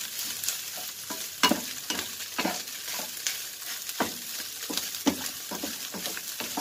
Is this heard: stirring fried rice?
yes